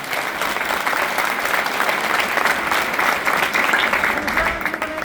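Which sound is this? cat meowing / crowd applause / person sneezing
crowd applause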